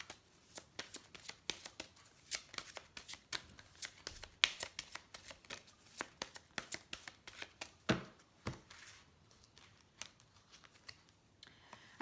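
A deck of oracle cards of the ascended masters being shuffled by hand, giving a steady run of soft, close riffling flicks and taps that carries on alone with no talking.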